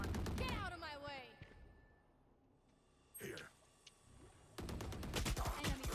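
Rapid gunfire bursts from a Valorant match, loud clusters of shots at the start and a dense volley at the end, with players talking over the action.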